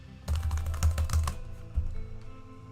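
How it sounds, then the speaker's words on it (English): Laptop keyboard keys tapped in a quick, close burst of clicks lasting about a second, followed by a couple of softer isolated taps in a quiet room. "What does my keyboard sound like?"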